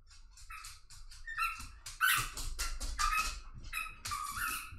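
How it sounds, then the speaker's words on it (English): A dog plays with a squeaky toy, the squeaks coming as a string of short, high, close bursts that turn busier and louder in the middle, with low bumping and shuffling underneath. "Oh, the dog's with the squeaky toy now."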